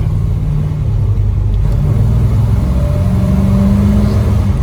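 Deep, steady rumble of a 1951 Chevrolet Styleline Deluxe Coupe engine running under acceleration, heard from inside the car with constant road noise.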